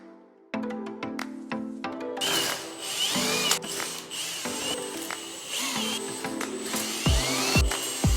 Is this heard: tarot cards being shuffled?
no